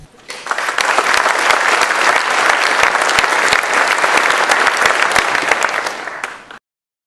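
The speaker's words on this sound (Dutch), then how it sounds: "Een warm applaus voor Aad Meinderts." A hall audience at a Dutch literary festival gives warm, sustained applause that swells quickly, holds dense and even for several seconds, then stops abruptly.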